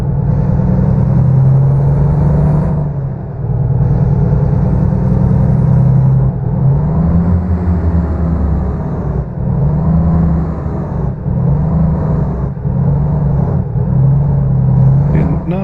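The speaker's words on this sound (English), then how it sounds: "let's go hear this Jake brake in action" Volvo VNL truck in American Truck Simulator with its Jake brake engaged, a loud, continuous low diesel engine-brake drone with steady harmonic rumble, pulsing slightly as it runs almost unbroken for the whole stretch.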